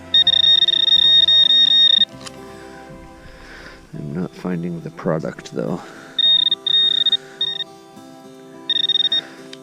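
A metal detector gives off a steady electronic beeping tone in short spells, with someone speaking briefly in between.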